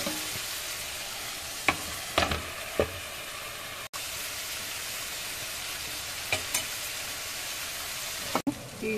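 Chicken fry sizzling and frying in a pan, a steady broadband hiss with a few sharp stirring clinks and scrapes scattered throughout, close and continuous with no talking.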